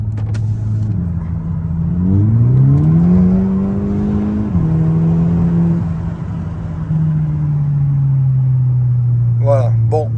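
A Volkswagen Golf 6 R engine in sport mode drops through the gears on its own, its steady drone stepping up and down in pitch with each automatic downshift, loud and close throughout, with a brief crackle near the end.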